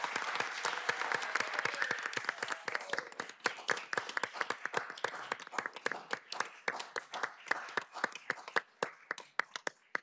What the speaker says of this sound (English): can we give her the round of applause?